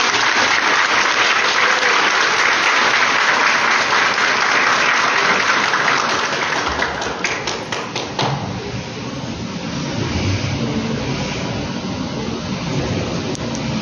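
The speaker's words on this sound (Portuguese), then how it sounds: "Eu quero agora, nessa tarde, uma salva de palmas para todos vocês que estão aqui" Seminar attendees at a public-servant training event give a loud, dense round of applause that thins out after about seven seconds into scattered claps and light taps with room noise.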